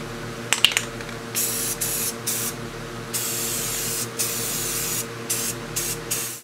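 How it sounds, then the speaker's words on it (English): Aerosol spray paint can hissing close up in a series of long bursts separated by brief pauses, with a few light taps at the start and no talking. "We'll see what it does with the spray paint."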